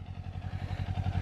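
A Kawasaki Ninja motorcycle engine, a 300 or 400 racing, bogs down in a rapid, low, pulsing putter that stays close and steady through a brief moment.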